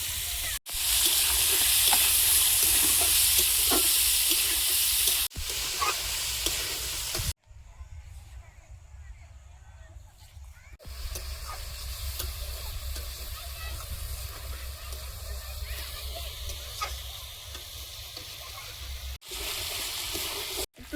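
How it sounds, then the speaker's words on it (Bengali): Spiced chicken and potatoes stirred in a pan, a steady sizzle and frying hiss with spoon scrapes and clatter, loud at first, briefly dropping away, then resuming at a lower level. "চিকেনের সাথে মশলাটা আগে ভালোভাবে মিশিয়ে নেব তারপর আলু দেব"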